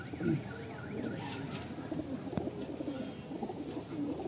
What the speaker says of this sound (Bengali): এই হচ্ছে কবুতর দুইটা, জোস একটা কবুতর।